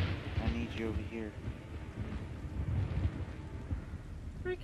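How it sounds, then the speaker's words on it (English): Thunder rumbling through a stormy scene in the video game Resident Evil 6, a loud low roll with rain-like hiss, heard under game sounds and talk. "Freaking thunder actually shakes the controller."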